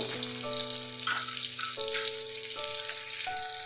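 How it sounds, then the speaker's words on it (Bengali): Whole cardamom, cloves and cinnamon sputter in hot oil for a cauliflower malai curry, a continuous crackling sizzle over a low steady hum, with no one speaking. "ফোড়নগুলো ভালো করে ভেজে নেব।"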